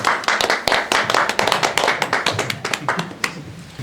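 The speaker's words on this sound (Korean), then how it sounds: "박수로 축하를 보내주시기 바랍니다" Fans at a fan club general meeting in a Pohang performance hall clap loudly and close, a brisk stream of sharp individual claps blending into group applause.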